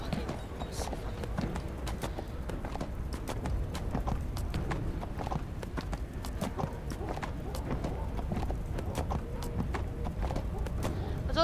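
Unicorn mount's hooves galloping in the video game Neverwinter, a steady rapid clip-clop rhythm running throughout over a dense game soundscape.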